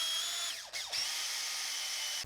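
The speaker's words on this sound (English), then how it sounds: "I'm going to drill the pilot holes and drill the lead hole" A power drill bores pilot holes into a small carved wooden mouse lure, a close high whine that briefly dips and spins back up, then holds steady.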